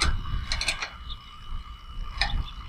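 The elevation nut on a Winegard TR-6100 portable satellite dish tripod is tightened, giving close metallic ratcheting clicks and creaks in two short bursts with a quiet pause between them. No one talks.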